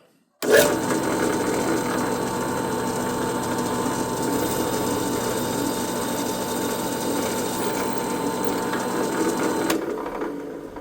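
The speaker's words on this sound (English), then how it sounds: "I got one more hole to drill here" A power drill starts abruptly and runs at a steady, loud, whirring pitch for about nine seconds while drilling a hole during guitar repair on a Squier Affinity guitar, before cutting off.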